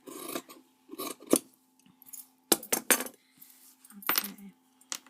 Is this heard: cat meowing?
no